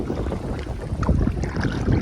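Wind gusting across the microphone with rumbling buffeting and faint splashing of water around a kayak heading into a headwind on the Nemunas River.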